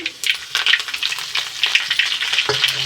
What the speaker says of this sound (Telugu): కరేపాకు వేసుకున్నాము